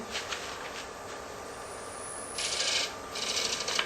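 Woodturning tool cutting into end grain on a lathe, giving a continuous hissing rasp that swells louder in two later bursts, close and steady, with no talk.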